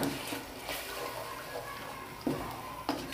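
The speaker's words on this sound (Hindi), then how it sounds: "इसके अंदर 1/2 गिलास जो है वो पानी का ऐड कर देना है" Half a glass of water poured into a pan of frying yogurt chicken, a steady watery rush with a couple of sharper splashes and sizzles, close and fairly quiet, with no talk over it.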